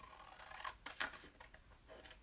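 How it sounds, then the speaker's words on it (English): Large scissors snip through scrapbook paper in a few quiet, irregular cuts, each a short crisp slice, close to the microphone with no voices. "The trick is to use large scissors."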